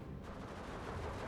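Artillery fire in the Steel Division 2 video game, a dense, continuous barrage of booming impacts and rattling gunfire blended into one steady roar for over a second, fairly quiet overall.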